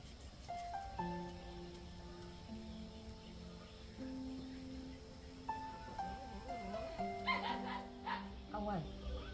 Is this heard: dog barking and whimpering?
yes